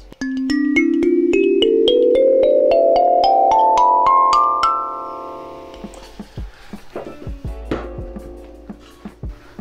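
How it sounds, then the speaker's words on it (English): Blue Jay flatboard kalimba from Kalimbera plucked in a fast ascending run of bright metal tine notes that ring together, then fade into quiet handling clicks and taps. "Of course I have the Blue Jay flatboard from Kalimbera, sounds like this."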